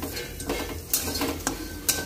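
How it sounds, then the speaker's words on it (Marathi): Gram dal roasting dry in a pan over a high flame, with a spoon scraping and rattling the lentils in short bursts about every half second, close up, with no voices. "1-2 मिनटं मोठ्या गॅसवर भाजून घ्यायच्या."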